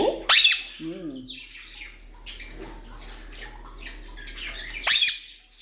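A confined peacock gives a couple of loud, piercing, nasal calls: one near the start and another toward the end. Fainter rustling and a brief warbling bird note come in between.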